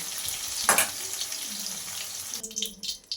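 Potatoes and pointed gourd frying in hot oil make a steady close sizzling hiss with a brief louder crackle, before the sound thins into softer, broken sputtering near the end.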